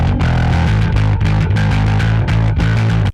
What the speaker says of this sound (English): And here's the omega, more of a fuzz sound.